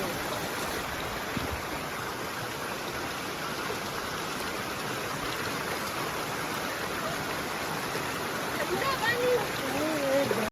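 Mountain stream below a hillside near Kausani, Uttarakhand, rushing in a steady broadband wash that stays even and fairly loud throughout, with faint voices in the background.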